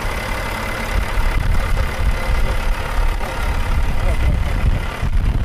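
A truck engine idles steadily at close range, a continuous low rumble that holds level throughout while oil additive is poured into the engine, with talk heard over it.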